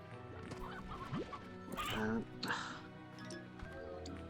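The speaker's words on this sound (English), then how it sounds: "I need these chickens." Chickens in the video game Slime Rancher cluck and squawk in a few short bursts, mixed with game sounds and a person talking over them.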